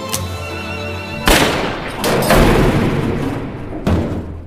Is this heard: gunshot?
yes